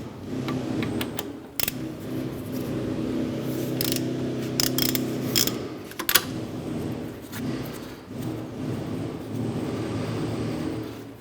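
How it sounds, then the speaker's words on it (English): A socket ratchet with a 13mm socket loosens the brake caliper bolts on a 2006-2013 Chevrolet Impala, giving steady mechanical clicking and ratcheting at close range over a constant background hum, with no talking. "Using our 13mm socket and ratchet, we're going to go ahead and loosen these bolts on the caliper."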